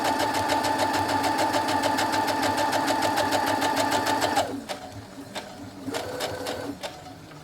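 A sewing machine quilting along a previously stitched line on a mystery quilt block, running steadily for about four seconds in a fast even chatter, then stopping and giving way to a few soft clicks and short restarts.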